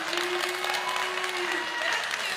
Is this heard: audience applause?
yes